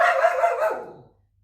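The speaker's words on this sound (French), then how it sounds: "ma chienne s'est mise à aboyer" A dog barks once, a single loud, drawn-out bark close by that fades away into silence.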